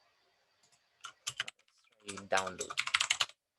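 Computer keyboard typing: a few scattered keystrokes, then a quick burst of rapid clicking, close and crisp, with brief speech mixed in.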